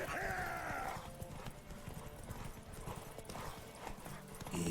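Horse hooves clip-clopping in a steady galloping rhythm in the video game The Witcher 3, continuous and fairly close, with a brief whinny-like tone near the start and no talk over it.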